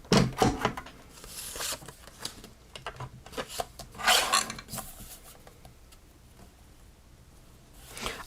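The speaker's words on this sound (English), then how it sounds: "Let me trim this up." Craft paper is trimmed at close range with scraping, rubbing passes and a few sharper handling sounds, occurring in uneven bursts with quieter stretches between them.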